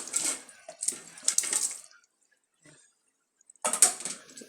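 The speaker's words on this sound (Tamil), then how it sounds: "அப்போ நம்ம வந்து தக்காளி இந்த சிக்கனை இதில் சேர்த்துக்கிறோம்." Chicken pieces tipped into a pan of tomato masala and stirred, giving wet splashy bursts of sizzling and scraping, then a near-silent pause before another loud burst of stirring.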